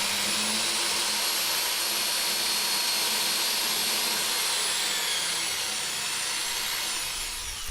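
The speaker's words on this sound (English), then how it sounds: "So I'm just drilling in with little tiny drill bits." Small drill bits, around 15/64 inch, bore holes into a panel for an ITG2 dance pad replica, making a steady, continuous high whine of drilling that runs unbroken for several seconds with no talking.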